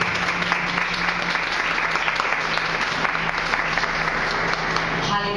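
A church congregation bursts into steady, dense applause, a continuous roomy wash of many hands clapping with faint voices underneath, holding evenly from start to finish.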